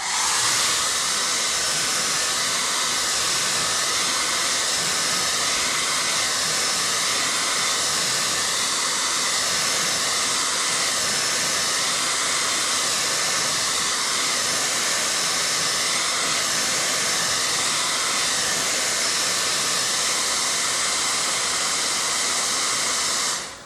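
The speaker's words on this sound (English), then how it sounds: "you can hit it with your hair dryer real quick" A hair dryer blows steadily on wet paint in a desert landscape painting, a loud, even, close whoosh that lasts throughout with no break.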